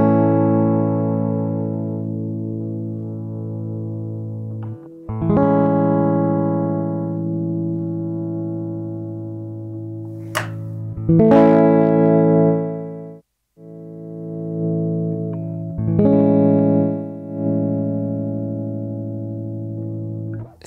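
A semi-acoustic electric guitar, an INSPECTOR TT, played clean straight into the line with no amp, sounding sustained chords and ringing notes that change every few seconds, with brief gaps between phrases and no talking.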